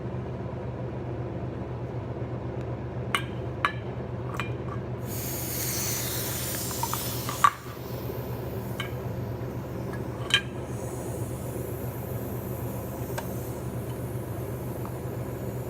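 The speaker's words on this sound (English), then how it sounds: "the rubber seal on this gasket is a little loose, so that's why there's some refrigerant coming out" Refrigerant escaping through a loose rubber gasket seal at a gauge manifold opened while inverted: a sharp, breathy hiss bursts out for about two seconds, then cuts off with a thump, amid scattered metallic clicks and a constant low hum.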